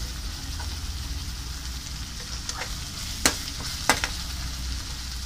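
Onion with garlic and ginger paste sizzling in a pan for a pork dish; a continuous close frying hiss broken by a few brief spoon scrapes, no voices.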